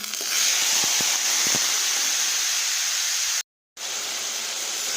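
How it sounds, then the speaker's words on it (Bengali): Mustard seeds, garlic and tomato go into hot oil, giving a loud continuous sizzling hiss with a few sharp crackles at the start, then a brief cut to silence before the frying resumes. "তেলটা গরম হয়ে গেছে, দিয়ে দেবো সর্ষে আর দিয়ে দেবো রসুন আর টমেটো।"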